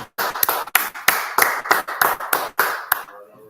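Rhythmic clapping from an audience during a religious talk: about a dozen sharp, evenly spaced claps in a steady beat, close and fairly loud, stopping abruptly near the end.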